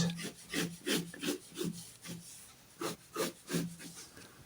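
Freehand pencil drawing of a box on paper for a cross-hatching shading lesson: rhythmic scratchy strokes repeat in quick bursts, close and fairly clear, with no talking.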